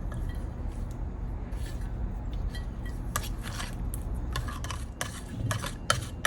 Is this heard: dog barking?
no